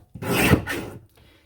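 A paper strip is sliced off on a page-kit paper trimmer, giving one short close rasping cut of about a second, followed by a faint brief scrape.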